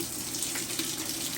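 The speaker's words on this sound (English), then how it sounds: "We got good water flow there." Water pours in a steady, faintly splashing stream from the dispenser of a Maytag washer, a brief, quiet, even rush of flow close by with no voices.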